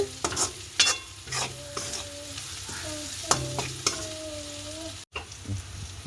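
Salted ingredients sauté in a pan with a soft sizzle under repeated scraping strokes of a spoon, with occasional clinks and brief pauses.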